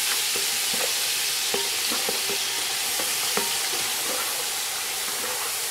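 Shredded carrots fry in hot melted butter in a pan, a dense, steady sizzle spread across the whole stretch, with scattered light taps and stirring knocks over the top.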